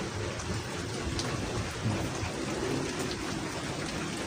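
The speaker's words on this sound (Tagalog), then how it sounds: "medyo maulan-ulan talaga." Steady rain pouring down, a dense continuous hiss with a low rumbling undertone, no voices.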